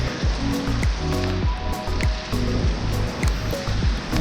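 Steady, loud rushing water fills the clip, a dense continuous roar with low rhythmic thumps mixed in.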